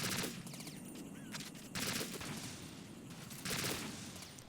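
Rapid video-game gunfire from a PSG-1 sniper rifle in Metal Gear Solid 2, fired at ciphers: repeated crackling bursts of shots, fairly faint and steady, with no voices.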